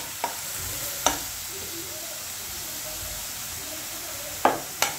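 Onion and tomato paste sautéing in a pan for pasta with curry leaves, a steady low sizzle running throughout, with a few sharp spoon-against-pan stirring knocks spaced across the stretch.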